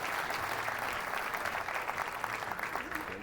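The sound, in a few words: bowling crowd applauding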